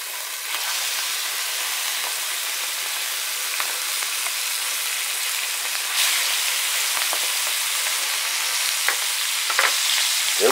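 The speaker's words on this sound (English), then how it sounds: "We're going to get our patties up into this hot skillet." Veal burger patties sizzle steadily in a hot cast iron skillet, a dense continuous frying hiss with a few small pops and crackles near the end, close and unbroken, with no talking.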